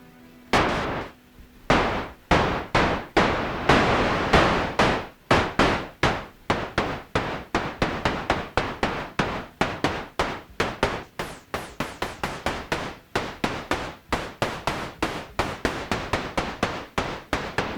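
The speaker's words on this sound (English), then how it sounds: "Electronic snares and hi-hats are also commonly created with filter and enveloped controlled noise." A Roland S-1 synthesizer produces electronic snare and hi-hat hits from filtered, enveloped noise, heard as a loud run of sharp, snappy strikes that begins sparse and grows into rapid, regular repeats.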